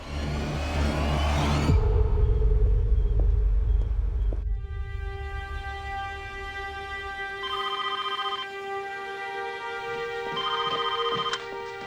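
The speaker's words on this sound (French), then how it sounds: "Ma mère a répondu au téléphone." An old-style telephone rings in a crime documentary reconstruction, loud rumbling noise cutting off before several repeated electronic ring bursts sound clearly in a quiet room.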